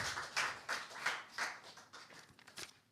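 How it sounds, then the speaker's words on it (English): A few people clap in irregular bursts for conference speakers, the claps sharp but thin and fairly faint, with no voices over them. "Let's give a round of applause for our speakers."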